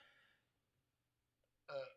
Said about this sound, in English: Let me burp here real quick.